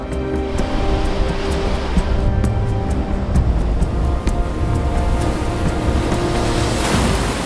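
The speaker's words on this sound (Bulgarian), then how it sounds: "Силният вятър прави на пух и прах вълните, които идват от Магелановия проток." Strong wind whips across waves coming in from the Strait of Magellan, making a loud, continuous roar of gusts and surf that does not let up.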